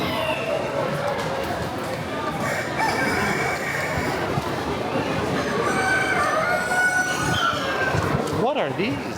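Roosters crow and chickens cluck among fancy poultry at the Florida State Fair in Tampa, scattered calls under busy crowd chatter and people talking nearby in a loud indoor exhibit hall.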